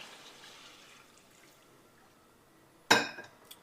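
Water poured into a pan of mutton curry: a quiet room, then one sudden splashing pour lasting under a second, followed by a couple of faint clinks.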